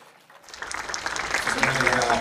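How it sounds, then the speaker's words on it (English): An audience at an Indigenous Red Talks event applauds presenter Pete Turner, the applause swelling up from quiet into a steady wash of many hands, with voices mixed in. "Let's give Pete Turner another big round of applause"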